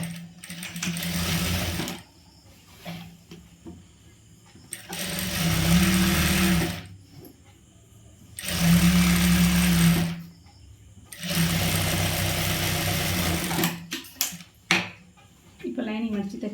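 A sewing machine stitches the quarter-inch folded lining of a churidar in four loud, steady mechanical bursts, each a few seconds long, separated by short quiet pauses.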